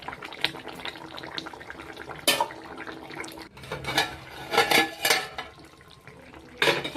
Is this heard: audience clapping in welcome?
no